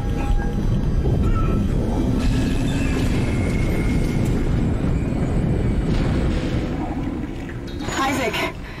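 Tram in Dead Space rumbles along with a heavy, continuous low grinding and metallic hum, loud and close, easing off slightly toward the end before a brief rattling burst.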